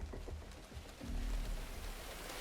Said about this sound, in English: If we take rain as an example, to not only trigger the sound of rain when it rains